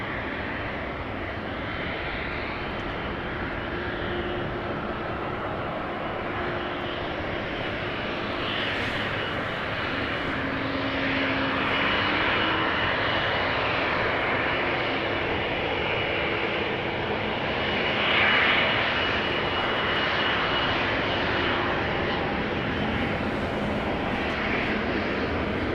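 An arriving airliner at Amsterdam Schiphol drones steadily as a broad, even roar at moderate distance, swelling slightly past the midpoint and holding without a break.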